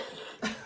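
One short, sharp cough, close and fairly quiet.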